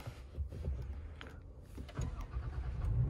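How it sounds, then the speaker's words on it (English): A 2021 Toyota Tacoma TRD Off Road Double Cab turning over, the starter cranking briefly before the engine catches and settles into a low, steady rumble heard from inside the cab. "Let's get the engine started."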